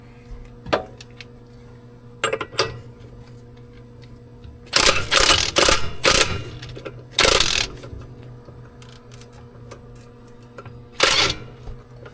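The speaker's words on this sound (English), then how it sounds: "On the secondary, I got the 36 on a wobble extension, and then on this it is lefty loosey, righty tighty." Sharp bursts of ratchet clicking from a 36 mm socket on a wobble extension as it loosens the secondary clutch of a Uforce 1000, several close, loud spurts separated by quiet pauses, with no voices.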